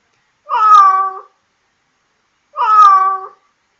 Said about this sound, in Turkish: Kedi nasıl ses çıkarır?